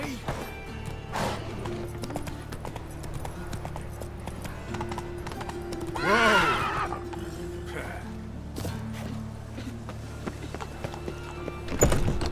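The Witcher 3 horse Roach trots with steady clip-clopping hooves and gives one clear neigh midway, nearby over a low ambient background with a voice speaking briefly.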